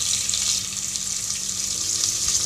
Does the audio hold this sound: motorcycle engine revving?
no